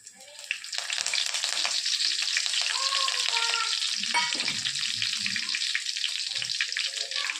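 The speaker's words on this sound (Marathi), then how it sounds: "आता टाकत आहोत कढीपत्ता" Curry leaves and cumin seeds drop into hot oil and burst into a loud, close sizzle that settles into a steady crackling spatter.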